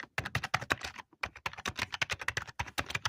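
An old computer keyboard clatters under quick, uneven bursts of keystrokes with brief pauses, close and crisp.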